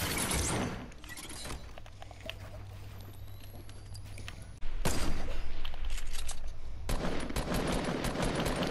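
Gunfire in a video game, with a sharp sniper-style shot among loud, dense bursts of shots and impacts that drop to a lower hum midway and then return at full strength, with no talking.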